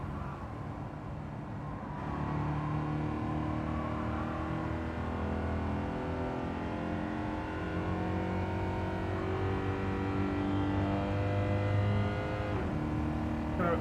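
Race car engine in Gran Turismo 7 drifting through a corner during a National B race, a steady loud roar with harmonic whine rising and shifting in pitch as revs build, continuous and close throughout.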